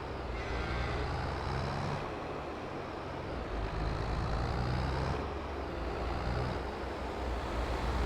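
A car in the Farming Simulator 22 video game approaches quickly on a valley farm map, its engine rumbling loudly and steadily throughout, rising and falling slightly in level with no talk over it.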